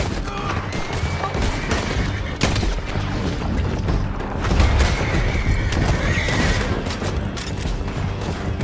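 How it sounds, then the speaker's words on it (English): Riders' horses neigh and gallop in a video game shootout, whinnies rising over hoofbeats amid bursts of gunfire and booms, loud and busy throughout. "Lance, men on horses."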